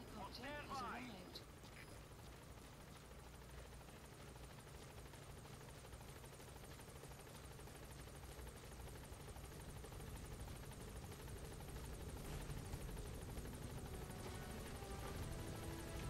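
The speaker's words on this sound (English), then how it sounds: "Support helicopter has arrived." A support helicopter lands at the landing zone in the video game Metal Gear Solid V: The Phantom Pain. Its steady rotor drone runs throughout at moderate level, and voices are heard over it.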